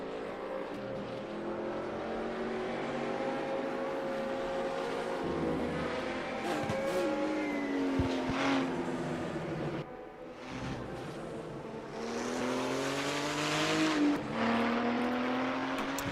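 Group 5 race cars on the Salzburgring in the RaceRoom sim, engines whining as they rise and fall through the gears, a steady loud drone of several cars with rpm sweeps and brief dips, no talk over it.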